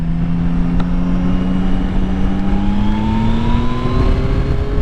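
A Yamaha Tracer 9 GT+ motorcycle engine drones steadily, its pitch climbing smoothly as the bike accelerates, loud and close with no talking.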